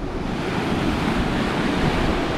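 Sea waves crash steadily against the sea walls at Whitley Bay on a cold, sunny day, a continuous loud roar of surf with wind buffeting the microphone and no speech.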